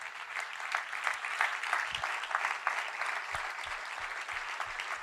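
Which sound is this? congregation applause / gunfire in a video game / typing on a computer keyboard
congregation applause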